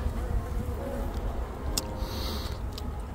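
Honeybees buzz steadily close by while a frame is lifted during inspection of a blind nucleus colony made from a swarm, a dense continuous hum with a few faint clicks and no talking.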